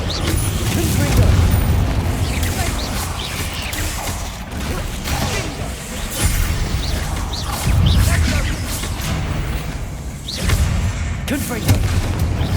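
Confringo fire spell blasts in the Hogwarts Legacy video game, a series of booming explosions recurring every couple of seconds, loud and close amid ongoing combat sounds.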